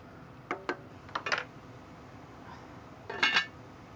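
Shrimp and bay leaves stirred in a boiling pot with a metal utensil, a few sharp clinks and scrapes against the pot in short clusters with quiet gaps between.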